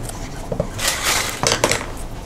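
Spoon stirring macaroni and cheese in a bowl, heard as a few clinks and scrapes against the dish, with a soft wet shuffle of thick food in between.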